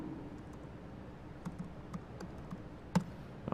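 A few scattered keyboard keystrokes, quiet and close, with irregular gaps between the taps, as a short entry goes into a web page in Chrome.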